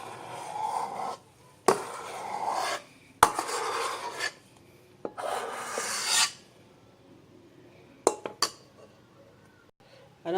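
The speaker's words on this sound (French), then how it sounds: "je mets ma préparation dans le moule rond de 21 cm de diamètre" Cake batter scraped with a utensil into a round 21 cm buttered and floured pan, giving rough scraping strokes with sharp clinks against the pan, close and fairly loud, separated by short pauses.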